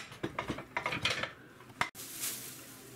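Dishes, plates and cutlery clatter in a home kitchen during pizza casserole preparation, several close, sharp knocks and scrapes in a rapid cluster, then a brief break into a softer, steadier background hiss.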